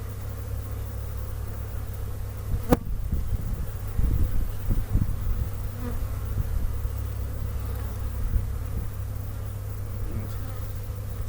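Honey bees buzz steadily around an open beehive during an early inspection on a warm February day. The hum is continuous and close, with light wind noise and a few brief knocks from handling the frames.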